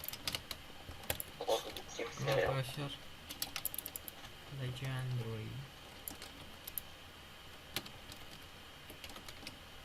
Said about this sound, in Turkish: Bir de mouse klavye sesim de çok geliyor olabilir.